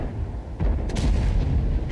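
A tank cannon fires in World of Tanks on the Ensk map from an FV4004 Conway, one heavy close boom followed by a rumbling tail that fills the short moment alone.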